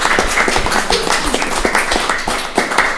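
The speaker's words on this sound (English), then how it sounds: "give them a big round of applause for the bravery as well" Audience applause for boxers at a boxing conference, a room of people clapping steadily and fairly close for the whole stretch, with no talk over it.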